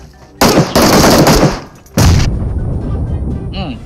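Loud bursts of gunfire and a heavy grenade explosion in PUBG Mobile, several sharp close blasts in quick succession followed by a booming blast with a rumbling tail.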